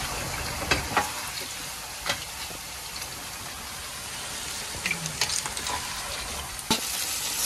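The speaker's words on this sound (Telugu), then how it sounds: "వాటర్ వేసుకొని కొంచెం బాగా కలుపుకుందాం." Chicken curry being stirred in a pan after water is added, giving a steady low sizzle with a few soft scraping clicks of the spoon, close and moderately quiet, with no talking.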